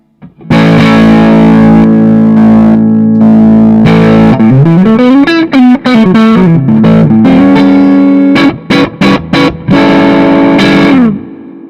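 A loud, distorted electric guitar, a Sterling by Music Man Valentine on its humbucker pickup, with a thick overdriven tone, sustained chords and bending melodic runs, ending in a few choppy stabs.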